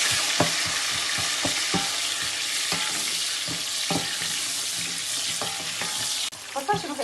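Onions fry in hot oil in a pot with a constant loud sizzle, while a spoon strikes and scrapes the pot in regular, rhythmic knocks; the sizzle cuts out near the end, leaving a few softer clatters.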